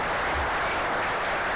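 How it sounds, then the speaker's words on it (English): Audience applause after a startup panel discussion at a business event, a dense burst of steady clapping from a crowd filling the short moment without any voices. "Big round of applause for both of you."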